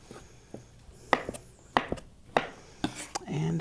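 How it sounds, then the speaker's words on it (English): A knife dicing very ripe avocados on a cutting board: a handful of soft, separate knife taps at an uneven pace, close and fairly quiet, with faint background noise between the cuts. "we are just going to dice these up a little bit"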